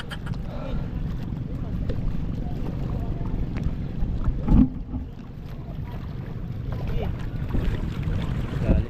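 Large waves batter a small wooden outrigger boat, with a constant low rumble of churning water, gusts of wind buffeting the microphone and a sharp thump midway, while people talk.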